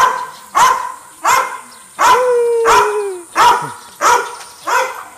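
A dog barks repeatedly outdoors in a flooded neighborhood, seven loud sharp barks in a steady rhythm about every two-thirds of a second, one stretched into a long whining howl.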